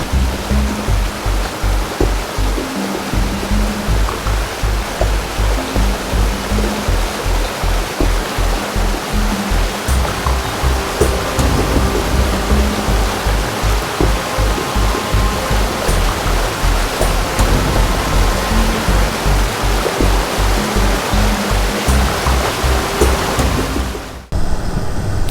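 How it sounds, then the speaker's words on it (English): Steady, loud roar of the Low Force waterfall on the River Tees, continuous broadband rushing water close by with no voices, ending abruptly near the end. "I'll stick you a clip of the Low Force waterfalls in"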